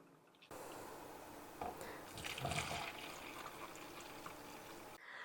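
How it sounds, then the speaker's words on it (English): Hot gelatin mixture is poured from a pan into a measuring cup, a steady liquid pour with a brief louder splash partway through, close and moderately loud with no talk. "I'm going to pour it into a measuring cup."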